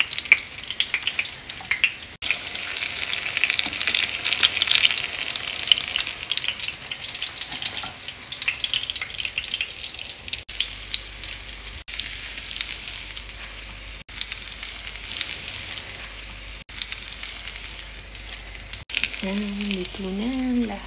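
Zucchini okoy fritters sizzle and crackle in hot oil in a home kitchen, bubbling steadily up close with occasional clinks of utensils and a brief vocal sound near the end.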